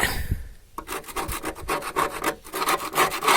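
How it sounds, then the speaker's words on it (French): A screwdriver scrapes flaking paint and rust off a car body, a close, harsh rasping in rapid repeated strokes with a brief pause midway. "Donc bien gratter au tournevis."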